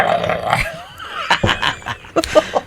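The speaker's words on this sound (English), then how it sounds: "Or me dog barking, one of the two." A dog growls and gives short yipping barks close by indoors, rough bursts that rise and fall unevenly over a few seconds while someone records a podcast.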